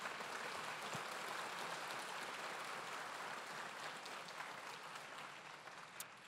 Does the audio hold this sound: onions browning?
no